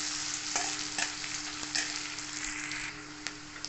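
Chopped green chili, ginger and garlic frying in a pan for paneer bhurji: a quiet, steady sizzle with a low hum beneath and a few light clicks and stirring taps.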